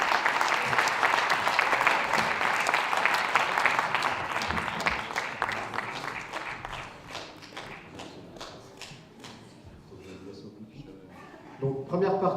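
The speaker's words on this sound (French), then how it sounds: "Je lui demande de l'applaudir." An audience at a French citizens' initiative event applauds a candidate called to the stage, dense clapping fading after about eight seconds, with a voice speaking briefly near the end.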